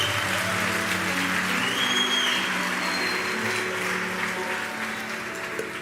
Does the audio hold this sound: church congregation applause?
yes